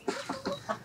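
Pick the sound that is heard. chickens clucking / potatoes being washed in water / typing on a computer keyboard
chickens clucking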